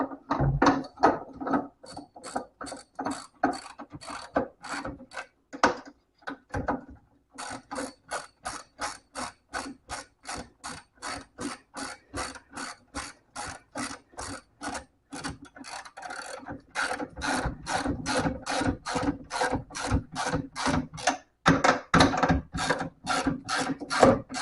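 Hand ratchet clicking steadily as it turns a bolt on a trailer slipper leaf spring, a long run of rapid, evenly spaced close-up clicks with a brief pause midway, no voices.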